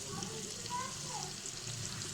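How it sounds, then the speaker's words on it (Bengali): Bori, small lentil dumplings, frying in a pan with a steady close hiss and sizzle that runs throughout, plus faint stirring noises and brief tonal sounds in the background. "তার জন্য আমি বড়িটাকে একটু ভেজে নিচ্ছি।"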